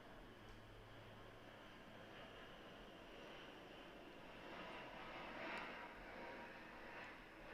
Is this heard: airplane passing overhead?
yes